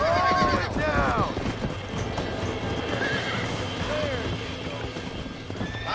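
Several horses whinny and neigh in a Red Dead Redemption game scene, with clip-clopping hooves, a loud neigh at the start and more calls later over steady ambient noise.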